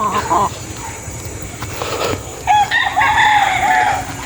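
A rooster crows in a long, bright call, with other chickens clucking nearby and someone talking in the background.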